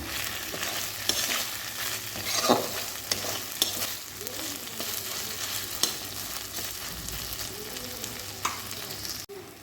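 Continuous sizzle of spice paste and tomato frying up close, punctuated by scraping spoon strokes against the pan.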